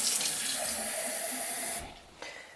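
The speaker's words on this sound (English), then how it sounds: "grab a cup or a jar that you have and put some hot water" Hot water pours from a tap into a cup or jar in a steady, loud splashing stream for nearly two seconds, then cuts off, followed by a single faint clink.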